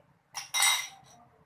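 Metal utensils clinking against a dish while homemade pumpkin soup is served, two or three sharp, close clinks in quick succession, then quiet.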